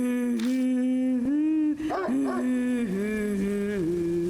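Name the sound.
dog growling in the video game Spirit Hunter NG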